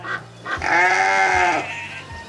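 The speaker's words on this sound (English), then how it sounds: "Then we also have the goats, which were on the other side of the farm." A goat on a free-range farm lets out one loud, drawn-out bleat close by. Shorter, fainter animal calls sit before and after it.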